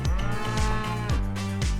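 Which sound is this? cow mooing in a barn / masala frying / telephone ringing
cow mooing in a barn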